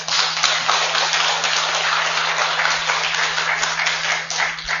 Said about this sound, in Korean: 감사로서의 박수를 올려주세요